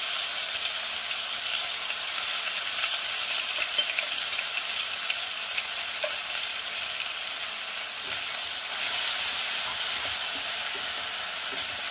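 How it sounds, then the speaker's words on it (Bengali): Ginger, garlic, clove and cardamom paste frying steadily in a pan for Dhaba-style aloo gobi, with a continuous bright sizzle and occasional soft stirring scrapes, no voices. "এটাকে আমি ভালো করে কষিয়ে নেব।"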